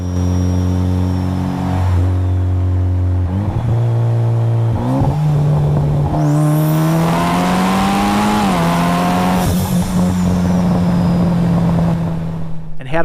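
A car's engine drones steadily and close up from the driver's seat, revving and shifting through gears as it accelerates, with road and tire noise throughout and no talking.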